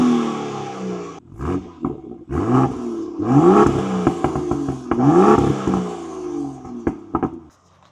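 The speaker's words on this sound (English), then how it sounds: "Let me play the exhaust for you guys, and just take a quick listen to the N55 M2" A BMW M2 of the F87 generation with the N55 engine revs through its exhaust in several rising bursts, each roar climbing then dropping back to a burbling idle with crackles between, loud and close with no voices.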